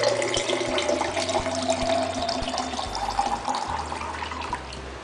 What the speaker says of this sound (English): I am going to add about 500 milliliters of water.